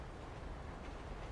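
A train rolls past in GTA 5, a steady, dense low rumble with faint rail clatter held at an even level throughout, fairly quiet and with no voices.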